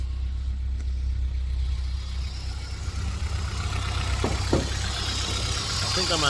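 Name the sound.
Honda S2000 car engine running at idle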